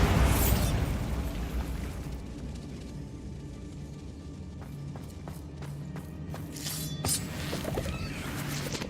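A Bombarda spell explosion in Hogwarts Legacy, set inside a closed-off mine, opens with a heavy booming blast that fades into a rumbling tail, followed by scattered sharp clicks and debris pops.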